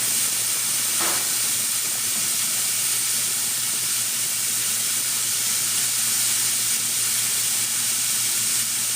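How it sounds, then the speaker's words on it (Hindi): A loud, continuous hiss of steam venting from a pressure cooker's whistle while cooking siri paye (goat trotters), steady and unbroken throughout with no talking. "अभी हम उसकी सीटी निकालते हैं। सीटी निकालें"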